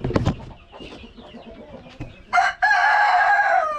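Dekalb Brown and Black Australorp chickens in a breeder flock, with close clucks and squawks followed by a loud rooster crow that carries to the end.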